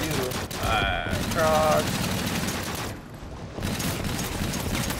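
Rapid, dense automatic gunfire fills a zombie shooter video game, loud and nearly continuous with a brief lull, under a player's spoken words.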